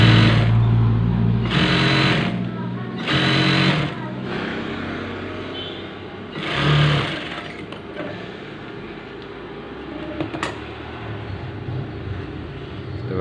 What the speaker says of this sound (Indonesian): kita jahit di bagian bawahnya seperti ini